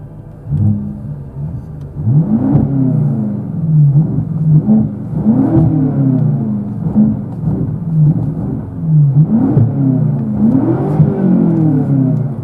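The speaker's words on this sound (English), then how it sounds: "Car sounds really good." A BMW M6 Competition Coupe with a 6-speed manual revs repeatedly, rising and falling in pitch in a steady series of loud, throaty bursts over a continuous low rumble.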